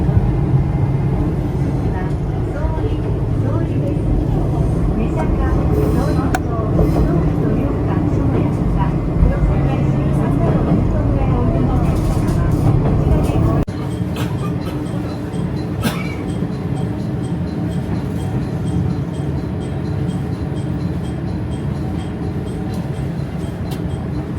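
Watarase Keikoku Railway torokko sightseeing train running, a steady loud rumble of wheels and carriage noise throughout, with a slight drop in level midway and people talking in the background.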